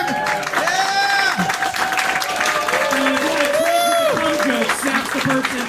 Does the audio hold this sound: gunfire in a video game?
no